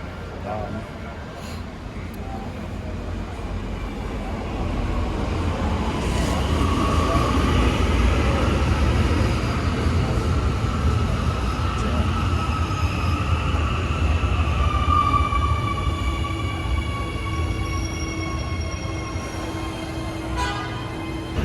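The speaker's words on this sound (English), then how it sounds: "I've never been on a train before, so this will be my first time" A ride on the Medellín metro in Colombia: steady rumbling train noise that swells as the car picks up speed, with rising and falling whines from the motors and wheels, and voices talking faintly in the carriage.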